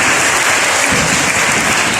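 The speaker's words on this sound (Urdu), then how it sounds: "ان سب باتوں کے لیے زوردار تالی خدا کے لیے بجائیں" A church congregation claps loudly and continuously, a dense, close wash of applause that holds steady throughout.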